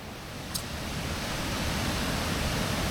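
Steady, full-band rush of a waterfall, the Chavanettes falls, heard from close by, loud and continuous with one brief faint click early on.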